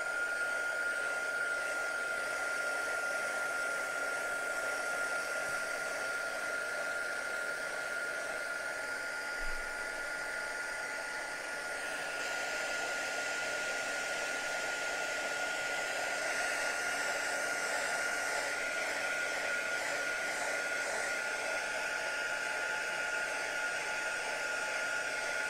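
A hair dryer blows steadily and loudly for a long stretch, drying a crackle-finish clock craft project, its airflow shifting slightly in tone partway through, with no talking.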